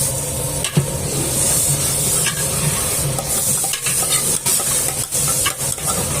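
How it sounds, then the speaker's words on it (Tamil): Steady, loud sizzling of onions frying in a pan for vegetable biryani, with occasional scraping stirs breaking through the hiss. "நல்லா வெங்காயம் வதங்கிச்சு பார்த்தீங்கன்னா தெரியும் நல்லா ரெட்டிஷாக ஆகி நல்லா கொதிக்குது"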